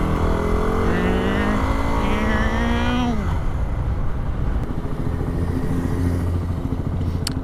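Dirt bike cruising slowly near a soccer game, a close engine droning with a rising then falling rev over the first few seconds before settling into a low steady chug.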